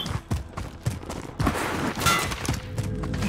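Rapid bursts of gunfire in a first-person shooter video game, sharp overlapping shots and cracks arriving in irregular clusters, with a dense volley in the middle, close and loud.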